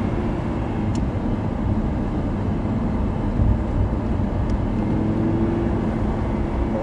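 Race car on a track with a steady, loud engine roar from inside the cabin, holding an even drone through a downshift with no clear rev spike.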